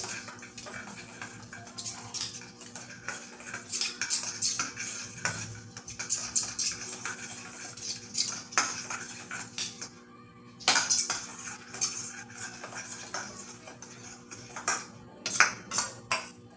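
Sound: mixing cornflour into flour for khari biscuit dough

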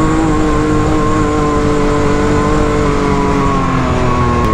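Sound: 200HP Can-Am X3 engine revving, climbing a steep grade

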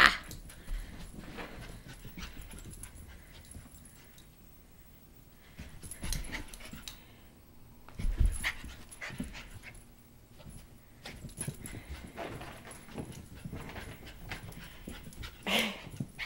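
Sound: maltipoo dog whimpering and panting while being chased

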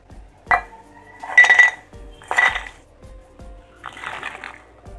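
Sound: fried namak pare snacks being transferred into a metal vessel

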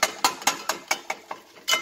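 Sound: mixing kothu parotta with dosa spatula and ladle in pan

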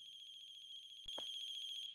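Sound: phone ringing in The Closing Shift video game

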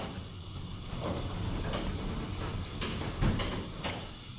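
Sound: hydraulic elevator doors opening

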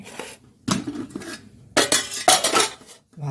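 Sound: plate and utensils handled while serving rice

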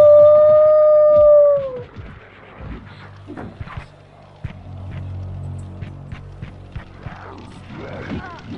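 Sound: werewolf howling in a video game

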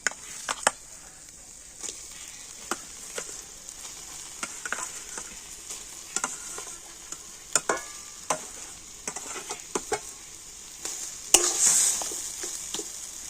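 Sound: grated potato frying and being stirred with spices

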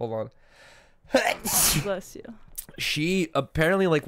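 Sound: sneeze

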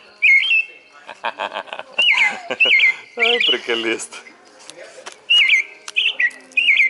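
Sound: American robin singing

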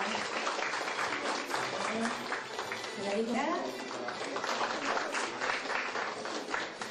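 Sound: audience applause at an opening ceremony

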